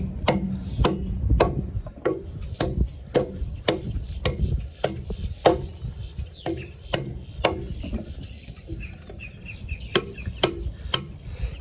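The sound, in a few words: survival knife chopping wood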